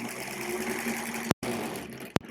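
A 1938 Kenmore model 38 sewing machine runs steadily, its close, even motor hum and rapid stitching rhythm broken by two very brief pauses.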